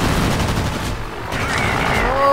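Aircraft machine guns chatter in World of Warplanes as a steady, dense stream of rapid fire, loud and close over a droning engine.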